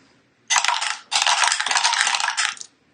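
Six dice tossed together onto a hard surface in two rattling bursts of clattering, a short gap between them, close and fairly loud.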